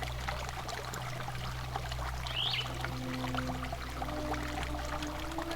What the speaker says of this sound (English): the sound of nature, the water, the bird in the background